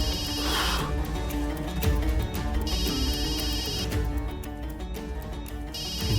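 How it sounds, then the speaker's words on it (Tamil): A mobile phone rings in a hospital setting, its bright electronic tone repeating in regular bursts over a continuous background of music. "உங்க ஃபோன் தான் சார் அடிக்குது"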